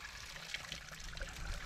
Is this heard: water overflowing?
yes